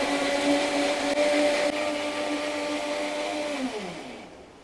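A blender whirs steadily while mixing strawberry filling at a Belgian waffle shop, a loud tonal motor hum that holds for several seconds, then winds down and trails off.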